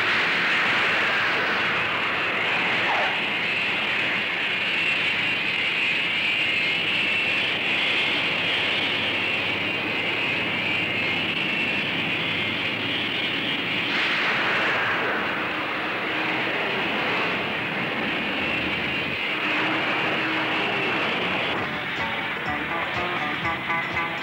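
An aircraft taking off in an animated sci-fi adventure, a loud steady roaring rush that holds for over twenty seconds and shifts in texture partway through.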